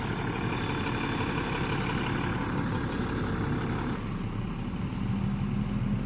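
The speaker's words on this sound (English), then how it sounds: "my neighbor's RV is pulling out" A large RV engine rumbles steadily nearby, a deep continuous idle that shifts slightly as it begins pulling away.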